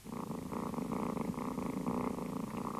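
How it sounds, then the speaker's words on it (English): Close, soft purring from a kitten pulses in a steady, rhythmic cycle with no other sounds. "A kitten's purr is caused by vibrations of its larynx."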